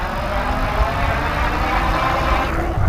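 A 2015 Rad Power Bikes RadRover electric bike running under throttle, its motor giving a steady mid-pitched drone with low road rumble throughout, fairly close and continuous.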